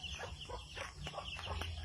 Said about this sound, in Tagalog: Oh, akong manok.